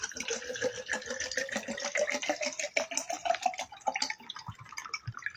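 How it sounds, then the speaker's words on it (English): Water runs from a tap into a container, a steady rushing flow whose pitch rises gradually as the vessel fills, with dripping and rattling detail, close and continuous. "Put some water in my thing."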